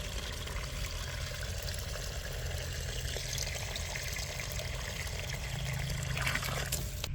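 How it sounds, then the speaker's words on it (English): Water is poured steadily into a bucket of food scraps, a continuous faint trickling splash heard close with no talk. "Fill the bucket with water until it completely covers the scraps."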